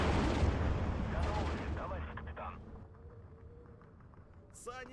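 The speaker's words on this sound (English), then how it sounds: "Meanwhile, they're gonna mortar that and that." Mortar and artillery fire in the WW2 real-time strategy game Steel Division 2, with dense rumbling booms strongest at the start, then fading into a steadier distant barrage, ending in a sharp whistling burst.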